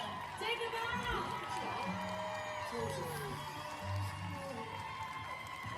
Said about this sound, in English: Please keep your applause going for everyone who took part this year in our musical lip sync battle!